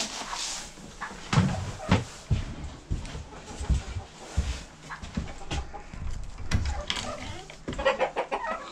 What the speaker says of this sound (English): Scratch these guys in their coop and check for eggs and go check on chicken Bock.